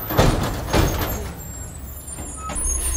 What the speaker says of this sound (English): There's a truck up there and he's, he's struggling.